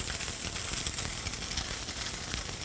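Salmon fillet sizzling in smoking-hot olive oil in a saute pan, a steady close hiss and crackle with no talk over it.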